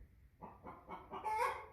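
An American Bresse hen, a heavy-bodied older bird held in the hands, gives a short run of close, soft clucks and murmurs that build into a slightly louder squawk near the end.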